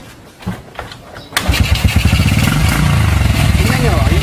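A motorcycle with an open carburetor starts after a few clicks and settles into a loud, rapid, pulsing engine note with crisp throttle response, close to the listener, with someone speaking briefly.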